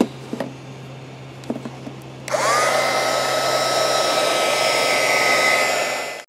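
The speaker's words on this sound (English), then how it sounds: "I'm going to kind of run my little heat gun over this just for a little bit, just to warm up the copper a little bit" Small heat gun warming copper wire before soldering a power distribution bar for a crypto mining rig; a few light knocks, then the blower switches on and roars steadily and loudly until the end.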